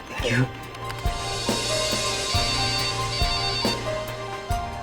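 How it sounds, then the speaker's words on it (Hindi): A mobile phone ringtone chimes in a repeating pattern of short tones in an office, rising from a cabin nearby and ringing steadily at moderate volume. "सर, आपका मोबाइल बज रहा है क्या?"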